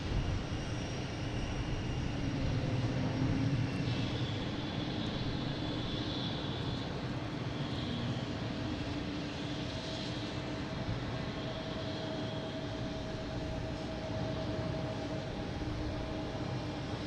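A JetBlue airliner taking off at Boston Logan International Airport, a steady broadband engine roar that holds at a constant level throughout, heard from a distance with no talking.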